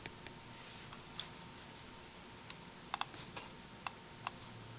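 Numbers are typed into a calculator or keyboard as sparse, faint clicks, a few isolated then a quicker cluster near the end, over a quiet background.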